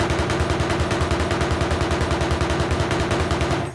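Rifle firing full-auto bursts in ARMA Reforger, a rapid, evenly spaced string of loud, close gunshots running for several seconds before stopping abruptly.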